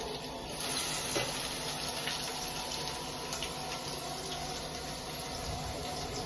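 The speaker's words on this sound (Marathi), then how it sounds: "कांदा चांगला गुलाबी रंग होईपर्यंत भाजून घ्या." Chopped onion fries in a pan with cumin and curry leaves for a fresh turmeric vegetable dish, giving a continuous, even sizzle with no voices heard.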